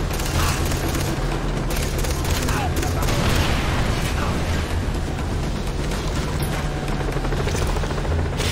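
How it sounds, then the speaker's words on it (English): Steady, dense rumble of a helicopter's rotor with scattered bursts of gunfire and booms in the video game Far Cry 3, continuous and loud throughout with no clear speech. "Helicopter भी आ गया।"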